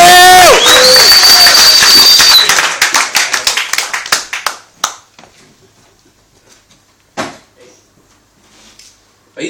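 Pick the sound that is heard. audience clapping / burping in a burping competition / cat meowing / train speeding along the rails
audience clapping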